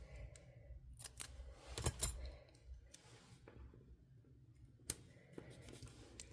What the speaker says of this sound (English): I'm actually going to cut this one in half.